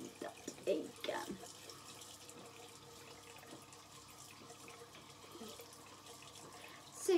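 Tap water runs steadily into a sink during a nighttime face wash, a constant broadband hiss with a few louder splashes near the start and end, while a person talks at times over it.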